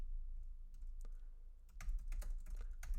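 Rapid typing on a computer keyboard during coding, a dense patter of close key clicks that gets busier and louder midway, with no talking.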